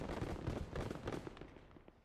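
Rapid bursts of gunfire in the World War II strategy game Gates of Hell, set at Pavlov's House, crackle in a dense cluster for about a second and then thin out and fade. The shots are fairly faint, with no talk over them.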